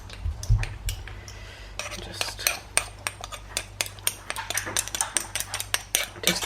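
A metal spoon clinking and scraping in a small container of spicy paprika, a run of sharp irregular taps and scoops that quicken toward the end, close by with no talk.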